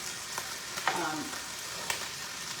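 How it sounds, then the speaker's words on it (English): Vegetables sautéing in a pan after beef was browned for stroganoff make a continuous close sizzle, with a couple of sharp pops and a brief scrape of a utensil, no voices. "So we're going to saute our veggies."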